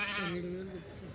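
At a sheep and goat market in Kadiri, a sheep gives one wavering bleat close by, brief and fairly faint, against a background of murmuring voices.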